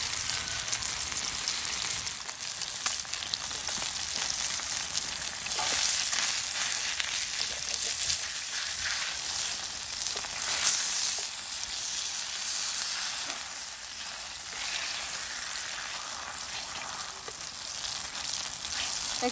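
Fish shallow-frying in a little oil on a tawa, a loud, steady close sizzle and crackle that continues throughout without talking.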